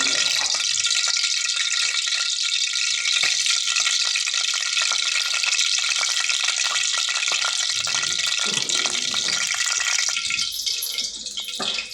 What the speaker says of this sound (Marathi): त्यात 1 ते 2 ग्लास पाणी टाकून घेऊ